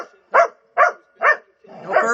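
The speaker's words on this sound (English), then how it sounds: "I can see real hatred in their eyes when they're barking at each other." Three sharp dog barks in a steady rhythm, then a rougher, longer bark-growl, loud and close.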